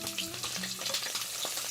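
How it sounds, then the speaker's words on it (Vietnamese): Potatoes hit hot oil in a pan and set off a bright, crackling sizzle with a brief stirring scrape, close and steady, with no talk. "Dầu nóng thì mình cho vào khoai tây trước nè."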